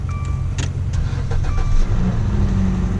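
A wrecked Dodge Dart running after a jump-start on jumper cables, its engine a steady low rumble throughout with a few brief mechanical clicks and clunks early on, close and fairly loud with no talking.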